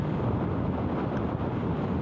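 Steady, heavy wind buffets the microphone during a relaxed motorbike ride in Aceh Besar, forming a dense, unbroken rushing roar with no voices.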